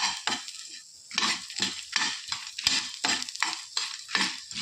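Coriander seeds, cumin and fenugreek being roasted in a little oil in a pan for a village-style crab curry, about a dozen rhythmic close scraping stir strokes with light sizzle between them.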